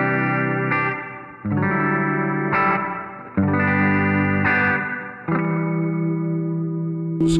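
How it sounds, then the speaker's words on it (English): An electric guitar plays through a reverb effects pedal with a modulated, warbling effect, its sustained chords washing out into long, shimmering tails. The chords are struck in a slow rhythm, loud and close, with no speech. "It's got a nice, kind of a modulated effect underneath it, and just kind of warbles around."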